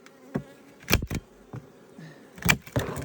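Honey bees buzz around package hive boxes at an apiary, with a low hum and several louder passes as bees fly close to the microphone.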